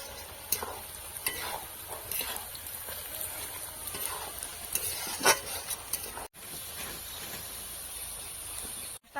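Pieces of country chicken fry in oil for a village-style curry, a soft hissing sizzle broken by irregular scraping stir strokes, close but low in level, briefly cutting out near the end.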